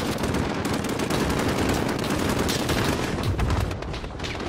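Rapid automatic gunfire and bursts of shooting in the Modern Warfare Call of Duty video game, loud and dense throughout with a continuous crackling barrage that eases slightly near the end.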